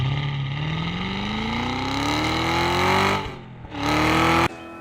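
Loud, near engine of a Cadillac CT5-V Blackwing with a manual gearbox, revving up through one gear in a long rising pull, a brief drop at a shift, then pulling hard again before cutting off.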